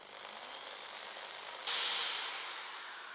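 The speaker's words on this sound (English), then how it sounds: "So I'm starting the hole with a 2 millimeter drill bit." A power drill with a 2 mm bit boring a starter hole into a Honda CRF300L motorcycle handlebar at a workbench, a steady close whine that gets louder and harsher partway through, with no talk.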